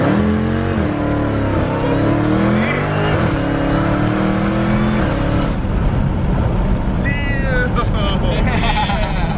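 An 800hp Dodge Hellcat launches down a straightaway with its tires spinning, a loud continuous engine roar with rising harmonics over several seconds, then tire squeal, while people talk and exclaim over it.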